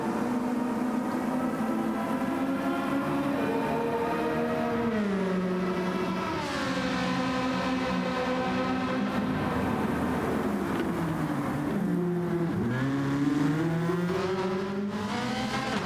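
Several race cars in a Nurburgring GP racing game round a final corner together, engines droning loud and continuous with harmonic pitch sweeping down on braking and climbing again through the gears, several cars overlapping.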